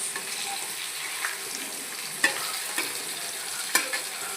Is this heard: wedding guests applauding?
no